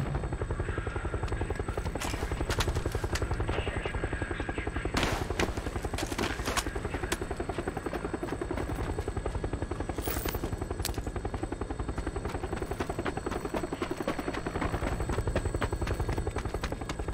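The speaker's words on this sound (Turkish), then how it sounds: "Helikopter, helikopter." A steady, close helicopter rotor thrum fills a video game scene, the chopping pulse continuous under scattered sharp cracks and bursts of distant gunfire.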